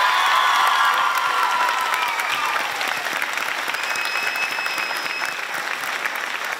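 Sustained applause from an audience at a school excellence awards evening honoring a winner, a dense steady wash of clapping that starts loud and eases slightly, with faint voices and a few tonal sounds mixed in.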